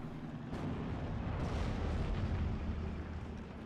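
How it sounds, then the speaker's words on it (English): A Pak 40 anti-tank gun firing high-explosive rounds in Steel Division: Normandy 44, with a few sharp blasts and booming shell impacts over a constant low rumble of distant battle, fairly faint overall. "And Pak 40 still firing away with more HE rounds."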